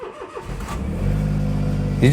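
A Smart car's engine cranks and catches on its own automatic start, settling into a low idle hum before a brief rise at the end, with someone talking over it.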